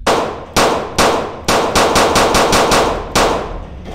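Gunfire in a clown labyrinth video game: loud, close metallic shots, a few spaced single blasts followed by a rapid burst of evenly timed rounds, then one more shot.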